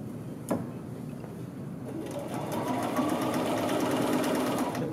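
A sewing machine stitches a men's shirt collar band, its steady mechanical chatter running close and continuous after a brief knock at the start, growing slightly louder as it sews.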